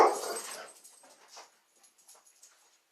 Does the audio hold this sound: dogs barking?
yes